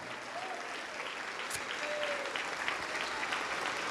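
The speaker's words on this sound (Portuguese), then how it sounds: "vamos aplaudir, igreja" A church congregation claps together during a Portuguese-language worship service, a sustained wash of applause at moderate loudness with a few sharper claps and faint voices underneath.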